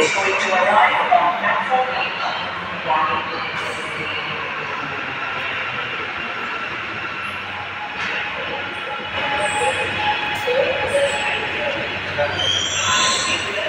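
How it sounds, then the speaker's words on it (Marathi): A Mumbai Aqua Line underground metro train arrives at the platform with a broad steady rumble and rolling rush that swells and eases, while people talk nearby throughout. "मेट्रो येत आहे चांगली."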